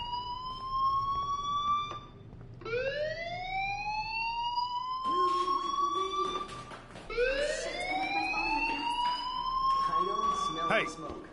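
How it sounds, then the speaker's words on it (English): Rising, wailing fire alarm tones from the video game Life is Strange sound in repeated sweeping cycles, fairly loud and steady, with brief pauses between rises. "Hey, do you hear that fire alarm? That means you should be outside."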